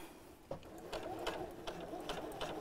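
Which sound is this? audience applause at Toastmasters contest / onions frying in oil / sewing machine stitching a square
sewing machine stitching a square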